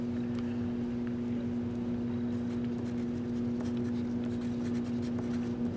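Pen or pencil writing on paper while a math problem about unit rates is worked out, a steady scratchy stroke running continuously over a constant low hum.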